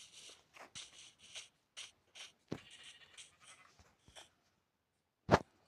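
A lamb in a video game gives a run of short, clipped bleats in quick succession, close and clear against silence, followed by a single sharp click near the end.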